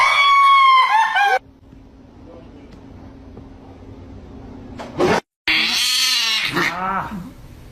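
A cat lets out loud, drawn-out cries at the start and again near the end, with a quiet stretch between them. Human voices mingle with the calls.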